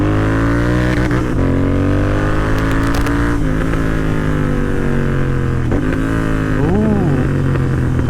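A motorcycle being ridden, a steady loud engine drone with shifting harmonic tones as the revs rise and fall through gear changes, continuous wind and road noise throughout.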